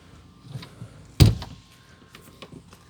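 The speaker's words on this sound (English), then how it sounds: "This door here has a magnet that's going to connect." An RV door swings shut and meets its magnet catch with a single close, solid thunk, surrounded by quiet room tone and a few light taps.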